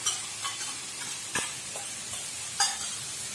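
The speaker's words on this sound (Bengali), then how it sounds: "দইটা ফেটিয়ে দইটাকে দিয়ে দিচ্ছি" Whisked yogurt stirred into frying spice paste for a prawn curry, a soft continuous sizzle broken by a few scraping stirs of a spoon against the pan, close and moderately quiet.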